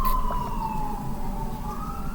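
Police car siren wailing at a distance, a steady rising-and-falling tone drifting over a continuous low rumble of traffic, with no voices.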